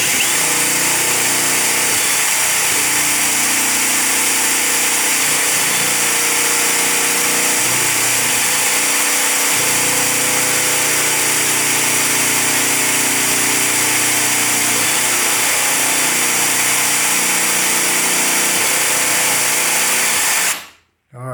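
A power drill boring through wood whining loudly and steadily for about twenty seconds, then cutting off abruptly at the end.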